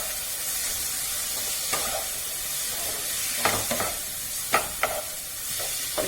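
Chicken bhuna masala sizzles steadily in a pan with a constant frying hiss, broken by several sharp scraping stirs of a spoon, close and moderately quiet, with no talk.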